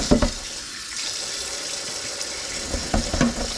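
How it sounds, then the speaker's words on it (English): Tap water runs over hot cooked potatoes in a sink to cool them before canning, a steady close hiss and splash with a couple of louder bursts, no talk. "I ended up running a little bit of water on these just to cool them down enough that I could handle them"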